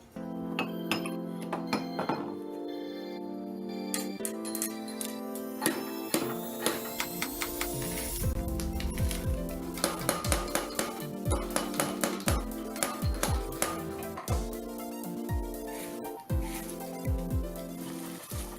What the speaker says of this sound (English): First up is grinding the obsidian, melting it down, and see if this is even feasible